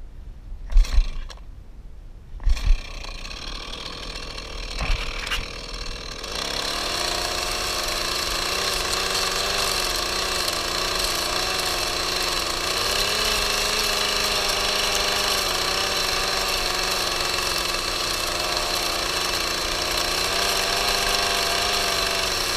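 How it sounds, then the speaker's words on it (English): A chainsaw runs steadily at high revs, flattening a log at an off-grid log cabin build, after a few short knocks and pull-start bursts, loud and close throughout with no talking. "then I'll get the chainsaw on this again a little bit and just flatten that out"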